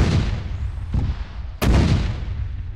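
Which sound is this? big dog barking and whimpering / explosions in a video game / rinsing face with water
explosions in a video game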